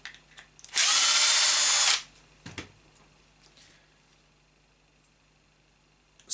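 A power screwdriver drives a screw into the receiver mount of an Arrma Kraton 8S RC car, one loud whir of just over a second, followed by faint clicks and handling noises in a quiet room.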